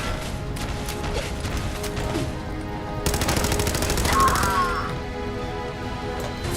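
Gatling laser fire in Fallout 4, a rapid rattling burst of repeated shots that swells loud midway over a steady mechanical hum, then drops back to quieter background action.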